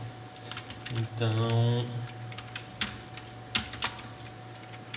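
Computer keys clatter in quick irregular bursts during programming, close and crisp, while someone speaks briefly partway through over a low steady hum.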